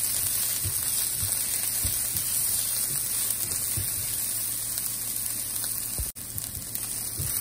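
Steady loud sizzle of garlic, shallots and pork stir-frying in hot oil for a Lao dish, with soft stirring knocks and one brief dropout near the end.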